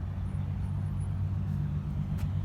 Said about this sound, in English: Here comes that Corvette with a Callaway supercharged engine.